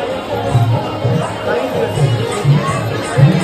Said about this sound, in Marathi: चला, फुल गर्दी आहे सध्या